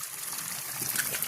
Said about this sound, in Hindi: इस प्रकार से पानी टपकता है,